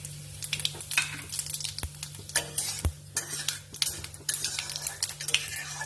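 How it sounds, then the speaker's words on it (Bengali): Cumin seeds tempering in hot oil with green chilli in a home kitchen pan, a steady close sizzle and crackle throughout with a few metallic clinks of a stirring utensil. "জিরে ফোড়ন দিলাম।"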